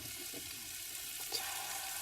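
Meat frying in a pan gives a steady, soft sizzle that stays even throughout, close and moderately quiet, with no voices over it.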